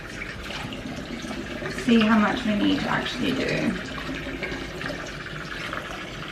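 Cool tap water runs steadily into a cooking pot while chicken stock is being prepared at home, a continuous splashing wash heard beneath a person talking throughout.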